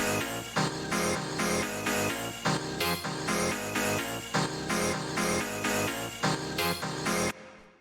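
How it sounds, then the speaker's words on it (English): Old school rave-style synth stabs punch through a dense techno track, loud rhythmic chord hits over a driving full-band beat that stops abruptly at the end. "these old school sort of ravey stabs"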